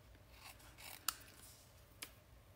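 Scissors snipping the edges of a paper product shape, with two crisp, close cuts about a second apart against quiet background noise.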